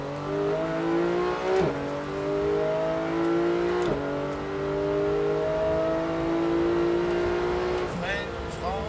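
A Porsche 991 GT3 engine revs hard under acceleration on a race track, rising pitch held steadily with brief gear-change dips, loud and close beneath a driving instructor's spoken coaching.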